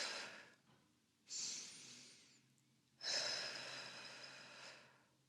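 Slow, deliberate breaths during a deep breathing exercise, heard as two long airy exhales separated by quiet pauses, close and soft with no talking.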